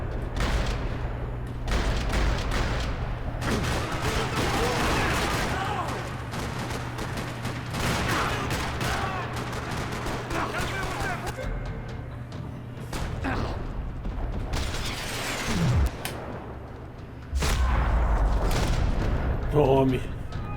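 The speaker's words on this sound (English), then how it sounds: "Another parking lot rattling with gunfire." Dense gunfire rattles across a parking lot in the video game Max Payne 3, loud and sustained bursts layered with booms and a steady low rumble.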